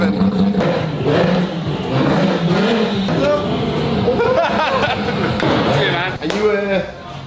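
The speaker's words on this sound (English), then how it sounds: "Just listen to the Lamborghini owner revving." A Lamborghini engine revs in repeated loud bursts at a track event, with a crowd of people talking over it throughout.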